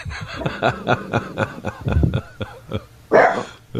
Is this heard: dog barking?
yes